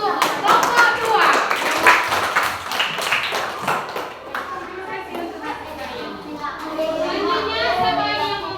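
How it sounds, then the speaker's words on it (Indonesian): Classroom applause for a student group, a burst of loud, uneven clapping from many hands close by that thins and fades, with children chattering and calling out over it. "Tepuk tangan untuk kelompok 2."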